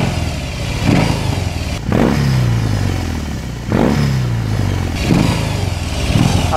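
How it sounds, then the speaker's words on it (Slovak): BMW R 18 Transcontinental motorcycle engine revved repeatedly, close and loud: four throttle blips roughly two seconds apart, each a sharp rising roar that falls back to a deep idle burble. "Nuža, zvuk Transcontinentalu je kapitola sama o sebe."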